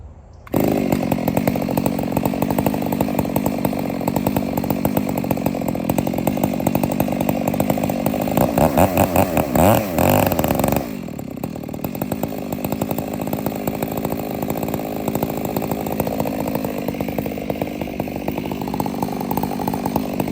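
A chainsaw with a limited coil that caps its RPM cuts through logs being sorted. It roars loudly and steadily close by, with a brief lull and a change in pitch about halfway through.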